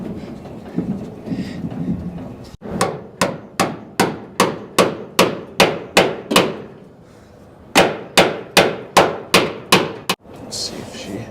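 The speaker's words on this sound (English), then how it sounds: "Get a hammer." Metal hammer blows on a part of a 1946 International truck, two runs of about ten evenly spaced sharp clanging strikes separated by a short pause, loud and close in a workshop.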